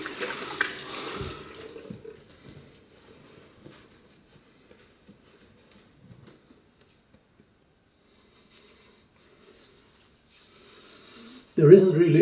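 Hands are rinsed briefly under a running tap in a sink after washing with soap, a short splash of water at the start and again at the very end, with quiet talk in between.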